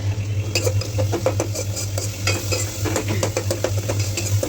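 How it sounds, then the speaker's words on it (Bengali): Greens being stirred in a pan after salt is added: a steady run of close scraping and clinking stirring strokes over a low sizzle, with no talking. "নুনটা দিয়ে একটু লাড়াচাড়া করে আর বেশিক্ষণ কিন্তু এটা ভাজা হবে না"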